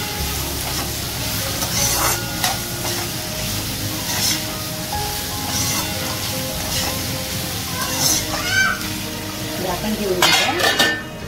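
Tempering fries in oil for restaurant-style dry manchurian, a continuous close sizzle with metal utensil clinks and scrapes against the pan throughout.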